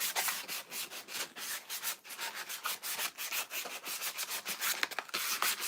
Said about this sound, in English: you can roll it, you can scrunch it, but you just want to scruff up the surface